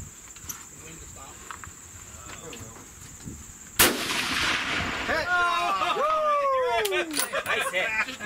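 Distant long range rifle shot at a shooting challenge, a sharp crack that breaks into a loud rolling boom and echo across open country, with insects chirping and voices faintly in the background.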